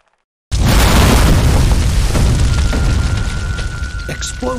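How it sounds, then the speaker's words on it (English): Explosions tear through a burning hospital in the video game Land of the Dead: Road to Fiddler's Green, one sudden loud boom after silence, then a long rumbling roar that slowly fades, with debris clatter near the end. "Explosions rocked the hospital."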